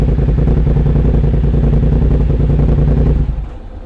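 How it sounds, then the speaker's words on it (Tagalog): A motorcycle engine runs loud and close with a steady rumbling clatter, then cuts off abruptly near the end. "Ingay kasi ng motor."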